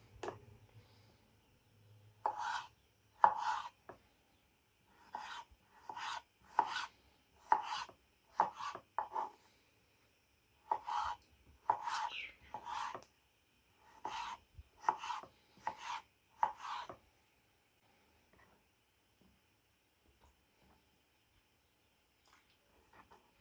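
A knife chops potato coarsely on a board in a quiet room, about twenty close, crisp thuds in uneven clusters with short pauses, then the chopping stops and near silence follows.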